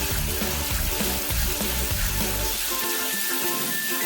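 Onion frying in a pan with ginger-garlic paste for duck curry makes a loud, dense sizzle with bursts of stirring in the first half, then the frying hiss settles and thins toward the end, with no talking.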